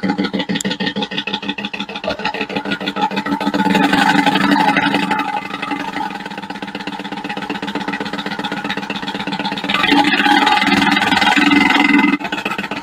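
A Haven Knocker RC mechanical engine sound generator, its can loaded with two small washers, a 3mm lock nut and a small piece of steel, runs with the lid on, giving a steady, close, old-tractor-like knocking chug that swells louder twice.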